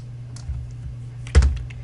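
Keystrokes on a computer keyboard while entering a legal search for Ohio real property law, a few light scattered taps followed by a louder cluster of quick presses near the end, close and fairly quiet over a steady low hum.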